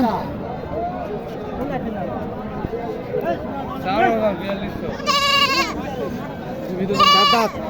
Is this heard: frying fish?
no